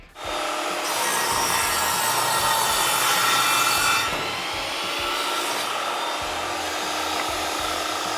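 Shelf boards being cut to length against a stop block, a sustained rasping saw cut through wood that swells, eases midway and carries on steadily, close and alone without talk.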